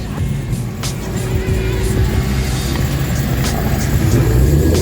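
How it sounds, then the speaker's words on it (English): A drag race car at a modern street Hemi shootout drones loudly at the strip, its engine rumbling steadily and building slightly toward the end, with faint crowd noise around it. "Race car."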